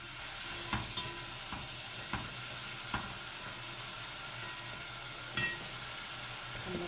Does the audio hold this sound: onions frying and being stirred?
yes